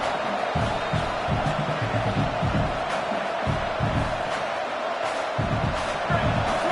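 A roaring college football stadium crowd fills the background with a constant wash of noise and scattered cheers, while a voice talks over it.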